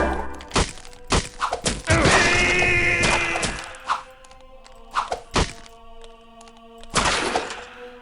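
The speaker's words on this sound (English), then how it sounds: "Skeletons are exploding to pieces." Skeletons burst apart in the Nox video game with loud clattering crashes and thunks, one after another over a steady game soundtrack drone.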